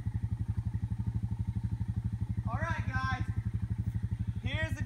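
A four-wheeler ATV engine idles close by, throbbing in a steady, fast, even rhythm throughout, while people talk over it partway through.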